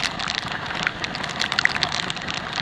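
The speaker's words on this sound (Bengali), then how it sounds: "বিশাল জোরে বৃষ্টি পড়ছে, বিশাল জোর।" Heavy rain on a night road trip in Koraput, Odisha, a dense continuous hiss with scattered sharper drop impacts, loud and close, without talk.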